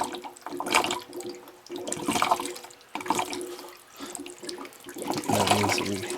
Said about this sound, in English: there's water pouring out